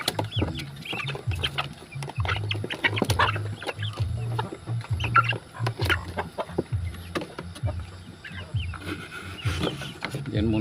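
Small chicks and other fowl clucking and peeping in a Philippine province yard, with a steady, busy chorus of short calls throughout, close and moderately loud.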